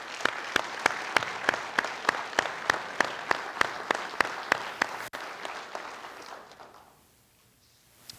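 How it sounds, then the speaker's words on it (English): Audience applause at a police awards ceremony in Burlington, North Carolina, with loud, rhythmic claps for about five seconds before the clapping thins out and fades to near silence. "how about a round of applause for all of our veterans who serve?"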